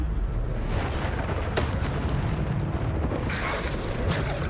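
Bombarda explosion spell blasts during a fight against dark wizards in Hogwarts Legacy, booming bursts with sharp cracks near 1 and 1.6 seconds over a constant roaring battle din.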